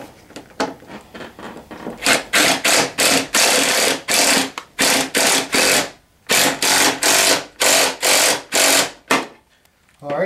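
Rhythmic ratcheting strokes tighten a nut on the steering column of a Tao Tao CY50B scooter, a long run of loud, close, evenly spaced rasping clicks with brief pauses between sets.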